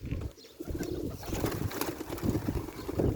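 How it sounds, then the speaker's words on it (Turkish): Pigeons are startled and scattered from the ground, giving brief close coos and a soft rustle of movement over a few seconds. "Ürkütüyorum kuşları."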